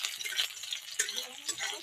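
Quiet sizzle and scrape of chilies being stirred as they fry in a pan, soft crackling hiss with a few light spatula taps, faint and close.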